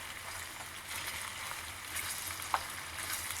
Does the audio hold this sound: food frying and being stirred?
yes